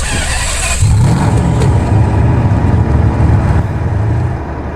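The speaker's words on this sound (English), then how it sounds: "Let's start the engine and we'll hear this out" A racing car engine in a video game starts up and settles into a steady, loud mid-pitched drone that holds for several seconds before easing slightly at the end.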